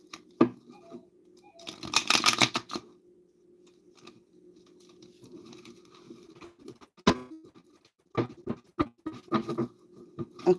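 Tarot cards being shuffled and handled in bursts of papery riffles and taps, with a loud flurry early on, quieter rustling through the middle and more quick shuffles near the end, close by and with no speech.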